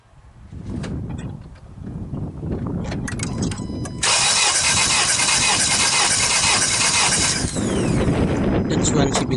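Car engine cranking over on the starter during a cylinder compression test, a loud rapid churning that runs steadily for several seconds, with voices in the background.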